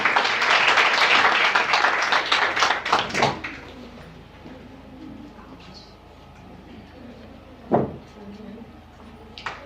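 A crowd claps loudly for about three seconds at a women's empowerment closing ceremony, the applause quickly dying away into a quiet, murmuring room with one sharp knock later.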